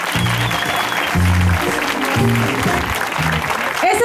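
An outdoor crowd at a speech event in Xeatzán Bajo claps together, a broad steady applause running under a low, rhythmic musical or vocal hum that pulses in repeated bursts.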